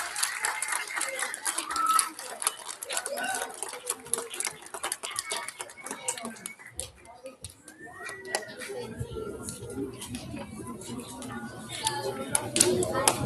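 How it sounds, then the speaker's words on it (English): Applause from an elementary school audience at a student recognition ceremony for third grade award recipients, steady clapping from a room of people with children's voices and chatter mixed in throughout. "Can we have a round of applause for our third grade award recipients?"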